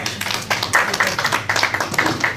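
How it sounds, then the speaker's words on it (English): Audience applause with scattered hand claps at a talk, a moderate patter of clapping rising and falling, fairly close and steady without any voices. "I applaud you all."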